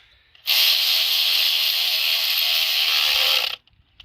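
Torque wrench whirring continuously for about three seconds while tightening oil filter housing bolts on a Chrysler 3.6 engine, a loud, close, even mechanical rattle that starts and stops abruptly.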